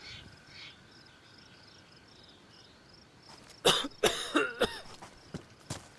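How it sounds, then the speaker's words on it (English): A character in the video game DayZ coughs up blood, a cluster of several sharp, close coughs and throat sounds arriving after a stretch of quiet ambient insect-like chirping. "I'm coughing up blood."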